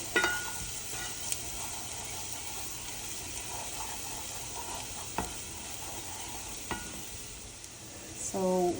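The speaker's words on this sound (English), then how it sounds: "we're going to stir fry it really quick until it becomes a little fragrant" Shallots and garlic stir-fried in a wok, a steady close sizzle of frying with occasional scraping stirs and clinks of a utensil against the pan, ending in a short burst of louder clatter.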